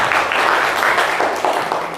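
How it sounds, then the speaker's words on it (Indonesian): Classroom students clapping together after a teacher asks for a round of applause, a dense, steady patter of many small hands filling two seconds, fairly close with a roomy echo. "Oke, tepuk tangan."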